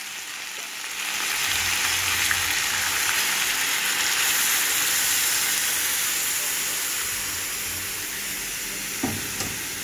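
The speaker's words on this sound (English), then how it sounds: "So it's burnt sugar and pumpkin and lentil in that pot over there." Pot of burnt sugar, pumpkin and lentil cooking on the stove, giving a steady, fairly loud sizzling hiss with a soft bubbling texture that holds for the whole stretch, with a faint knock near the end.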